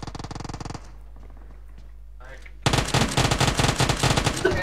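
Automatic gunfire in the mobile battle-royale game PUBG Mobile: a rapid burst, a short lull, then a longer, louder sustained stream of shots, heard up close.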